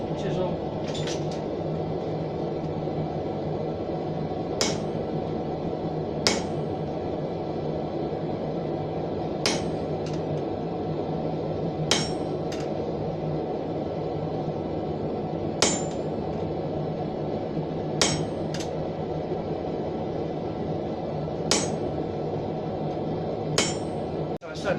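Hammer taps a chisel on a forged horseshoe for a keyring hook rack, giving about ten sharp metallic strikes spread irregularly over a steady low workshop hum, each tap bright and close.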